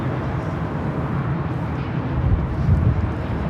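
A Norse airliner at Los Angeles International Airport, bound for London Gatwick, gives a steady, distant low jet rumble that swells slightly near the end, with no talk.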